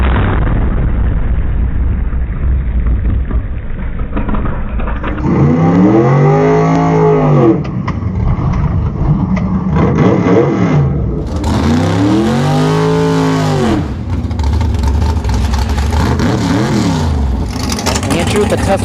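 A Tesla Plaid and a big-tire fourth-generation Camaro Z28 drag car run a quarter-mile drag strip. A loud engine revs and rises through repeated sweeping pitch climbs with pops and bangs, and an announcer talks over the roar.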